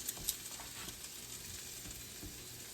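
Country ham fries in a pan with a faint, steady sizzle and crackle that continues without pause, with no talking.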